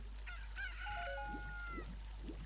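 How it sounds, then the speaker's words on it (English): A cuckoo chicken from Zelda: Ocarina of Time lets out a bright, drawn-out cock-a-doodle-doo, followed by a few short clucks, clear and close over a constant low hum. "A chicken hatched from my egg."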